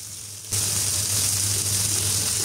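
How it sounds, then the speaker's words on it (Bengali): Sliced onions sizzle in a pan with salt as a chicken bhuna is started; a quiet first half-second gives way to a steady, continuous frying hiss that holds close and even to the end. "পেঁয়াজটা ভাজতে একটু সময় লাগে।"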